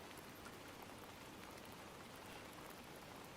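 Steady rain falls across the whole stretch, a dense, even hiss of drops on surfaces with no pauses and no voices, fairly quiet and uniform throughout.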